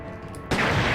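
A big explosion goes off in the Resident Evil 2 video game after a gas cylinder is unlocked, a sudden loud boom that bursts in halfway through and holds as a dense roar after a quieter stretch.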